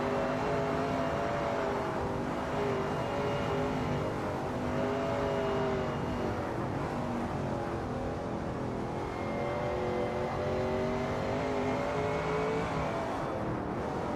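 A Shelby Cobra 351 race car in a sim racing game drones through a corner at Bridgehampton, its engine note rising and falling steadily through gear changes, loud and close the whole time with no talking.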